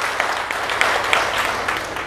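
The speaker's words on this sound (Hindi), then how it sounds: "एक बार जोरदार ताली बजाओ आप इनको।" Audience applause at a Vestige network marketing leadership training event: a steady, moderately loud wash of many hands clapping that runs throughout, swelling slightly at the very end.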